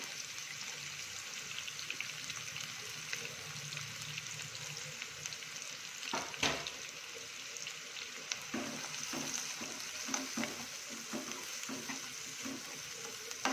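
Chopped onion frying for egg bhurji, a quiet steady sizzle with a few scrapes and knocks of a spatula midway and no talking.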